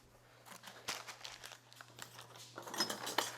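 Close, crisp crinkling and crackling as a small wad of paper for lighting a blacksmith's coal forge is crumpled in bursts, getting busier toward the end, with no talking.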